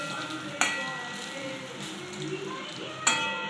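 Pakoras sizzle steadily in hot oil in a pan, with two sharp clinks of a utensil flipping them against the pan over the continuous fry.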